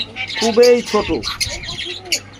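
A young grey parrot in a cage gives a rapid run of squawks, chirps and warbling babble, close and fairly loud, over a faint background hum.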